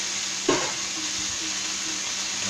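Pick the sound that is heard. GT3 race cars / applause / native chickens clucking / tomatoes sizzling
tomatoes sizzling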